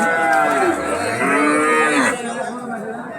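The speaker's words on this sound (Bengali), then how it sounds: "আপনারা যে গরুগুলো দেখতে পারতেছেন এগুলো ফ্রিজিয়ান ক্রস জাতের গরু" A Friesian cross bull at a cattle market gives one long, loud, drawn-out moo close by that fades toward the end, heard alone without talk.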